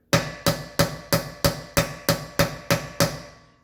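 Ten sharp metallic hammer strikes on an extractor being driven onto a wheel lock of a Fiat 500, evenly spaced about a third of a second apart, each ringing briefly, close and loud with no talk.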